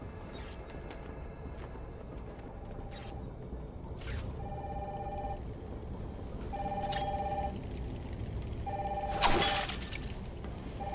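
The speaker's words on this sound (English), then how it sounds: "That's the phone." In the Batman: Arkham Asylum video game, a telephone rings in short repeated electronic bursts at a moderate level over low ambient noise, with sharp clanks and crashes in between.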